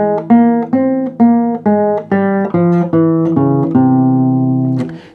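Single guitar notes plucked one after another in an even, ringing run up a major-type scale, each note sustaining into the next, close and clear with no talking.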